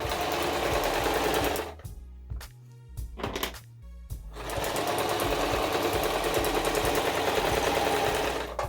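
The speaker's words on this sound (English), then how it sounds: "Stitch the other end too, where you see the length." A sewing machine runs in steady rapid stitching bursts through disposable mask fabric, stops briefly for a couple of short pauses with clunks, then resumes a long continuous run.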